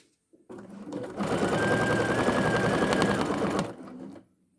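Sewing machine running for free-motion quilting on an art quilt, a continuous fast rhythmic stitching whir lasting about two and a half seconds, close and steady, with brief quiet handling sounds before and after.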